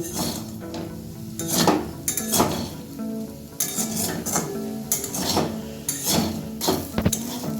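Poppy seeds and boiled potatoes fry together in a pan, with a soft sizzle broken by repeated close metal clatters and scrapes of a spatula stirring against the pan at an uneven rhythm.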